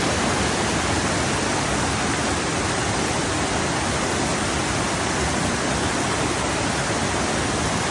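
A waterfall on private land roars steadily and close for the whole stretch, a dense, unbroken rush of falling water with no voices over it.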